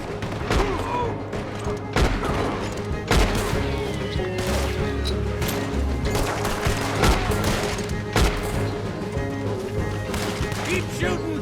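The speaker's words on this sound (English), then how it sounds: "Keep shooting!" Gunfire during a town shootout in Red Dead Redemption 2, a dense, continuous battle of shots and booms, some sharp and close, others overlapping in the background, with voices shouting over the din.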